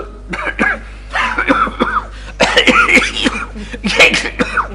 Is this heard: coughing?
yes